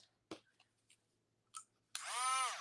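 A power drill bores into a piece of spare wood, a few faint clicks and handling taps first, then a sudden loud, high whining spin that holds steady to the end.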